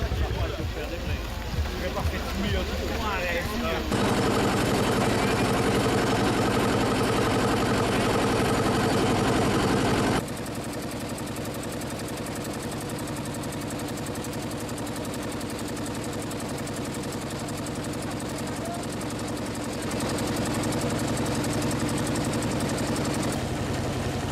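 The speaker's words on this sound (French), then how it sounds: "Ça tourne, ça fume, ça vit, ça vibre, grâce à la vapeur qui anime ce vieux tracteur." Old steam tractor engine running at a farm show with a pre-war threshing machine, a loud continuous mechanical chugging and hum that shifts in character partway through, with voices talking over it.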